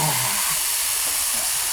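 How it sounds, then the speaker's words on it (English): A loud, steady hiss of bacon and egg sizzling on a hot breakfast sandwich maker, continuous and close, with no break or change in intensity. "We got the sound of sizzling."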